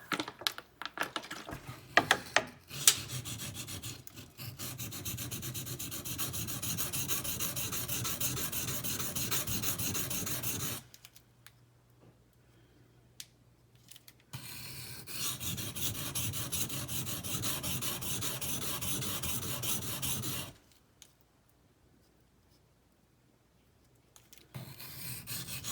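Zero Tolerance ZT 0620 tanto knife blade sharpened on a stone: steady rasping strokes in two long close passes, separated by quiet pauses, with a few sharper scrapes at the start.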